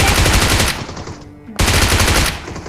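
Rapid automatic gunfire in a battle royale video game, two loud sustained bursts separated by a short pause, close and dominant with no talk over it.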